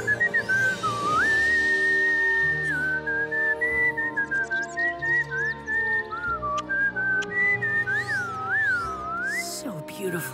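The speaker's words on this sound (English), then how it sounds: "Perhaps I can teach you the whistle" Someone whistles a wandering, sliding melody, loud and close, with steady musical tones sustained underneath.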